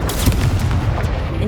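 Booming blast from the Confringo explosive spell in the video game Hogwarts Legacy, a dense continuous roar of rumbling impacts filling the moment, with a voice faintly mixed in.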